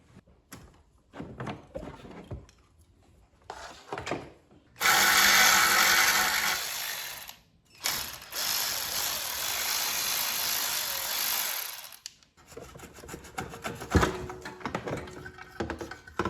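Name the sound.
wrench removing exhaust manifold bolts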